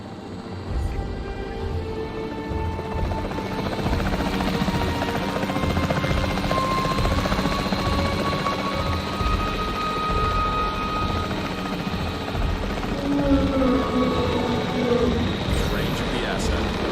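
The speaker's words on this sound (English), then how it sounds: "The priority needs to be tranquilizing it with the capture team chopper." A capture team helicopter in Jurassic World Evolution 3 drones with a steady, loud rotor and engine hum throughout, with faint game effects and a voice partly audible beneath it.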